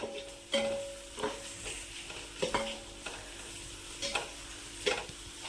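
Onions sauté in a pan for chicken biryani, a soft steady sizzle punctuated by roughly one stirring scrape each second, close and fairly quiet, no voices.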